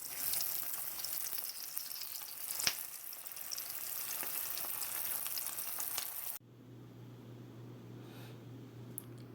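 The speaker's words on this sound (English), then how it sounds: "Just the frying grits are great." Grit cakes sizzle and crackle steadily in a hot pan, close and moderately quiet, before cutting to a quieter hum with faint clicks.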